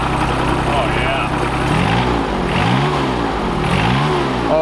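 An old John Deere mower engine running, a loud close mechanical drone with rhythmic revving swells every second or so, accompanied by a low constant rumble.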